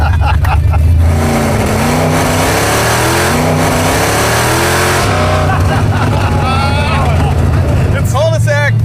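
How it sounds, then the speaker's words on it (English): A Chevrolet Impala engine drones loud and steady as the car drives around the block, revs rising and falling, with people talking and shouting excitedly over it inside the car. "Everyone wanted to find out if the Impala would even make it around the block, so we all hopped in for a ride"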